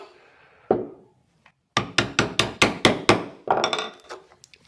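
A chisel driven by a mallet pares a mortise in wood, taking thin cuts back to a baseline: a few isolated knocks, then a steady run of about eight crisp, evenly spaced blows, followed by lighter taps.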